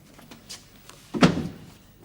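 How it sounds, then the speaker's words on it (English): A door is shut with a single solid thud, near and fairly loud, in a quiet office room with faint background noise. "Shut the door."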